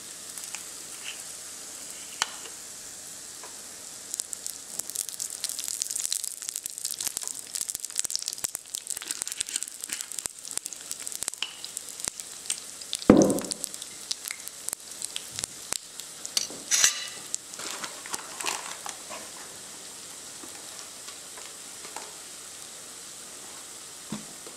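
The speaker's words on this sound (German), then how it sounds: "Und ich nehme immer Rapsöl zum Braten." Förtchen, small German fritters, fry in rapeseed oil with a steady close sizzle and crackle that lasts throughout, broken by scattered sharp pops, a loud clatter midway and a few soft rustling handling sounds.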